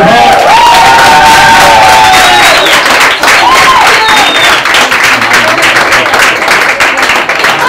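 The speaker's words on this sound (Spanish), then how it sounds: "un fuerte aplauso para David, por favor" At a stand-up comedy show, a crowd gives a comedian loud, sustained applause with dense clapping, cheers and whoops, and a few voices shout above it throughout.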